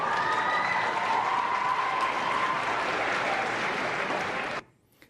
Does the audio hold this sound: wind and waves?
no